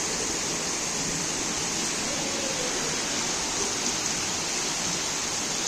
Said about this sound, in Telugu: భారీ స్థాయిలో మంచి స్థాయిలో వర్షం పడుతోంది.